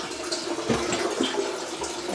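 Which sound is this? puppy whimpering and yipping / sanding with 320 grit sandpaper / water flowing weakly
water flowing weakly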